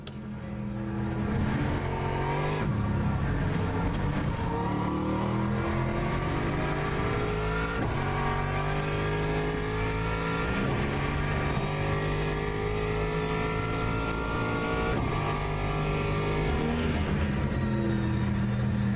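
A race car engine on a hot lap in Le Mans Ultimate, loud and continuous, with the pitch climbing through each gear and dropping at the shifts, repeated over a long stretch with no talking.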